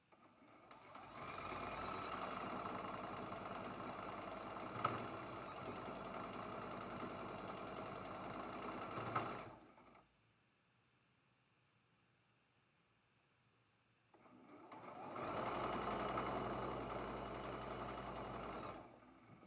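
A sewing machine pieces quilt blocks, nesting the seams, in two steady mechanical runs of buzzing stitching, close and even, separated by a quiet pause with no talk.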